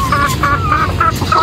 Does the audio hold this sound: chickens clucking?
yes